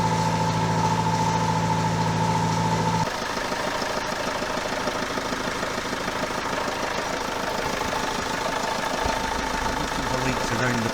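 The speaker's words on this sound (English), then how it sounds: "Let it rev for a minute and then we'll check for any leaks." A Citroen Relay van engine running after a service, a steady mid-pitched diesel drone with a faint tone that drops out after three seconds, continuing evenly near the microphone.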